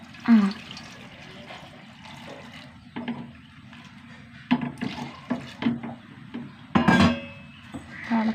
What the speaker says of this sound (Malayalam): വെള്ളം ഒഴിച്ച് കൊടുക്കാം കേട്ടോ